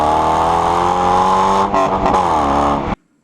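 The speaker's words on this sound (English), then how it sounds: "I love the sound of that exhaust, which I'll play a clip of that here right now" A 1999 Corvette hardtop with a bolt-on Z06 titanium exhaust, heard from close behind as a loud, steady engine drone that dips briefly mid-rev, then cuts off abruptly.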